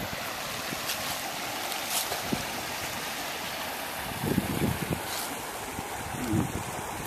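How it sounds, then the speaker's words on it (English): Floodplain water drains through a natural flume in a boxwood floodplain area, a steady broadband rush and trickle running throughout at moderate level, with a few louder splashy surges near the end. "There's another kind of natural flume that's created itself there and draining in here."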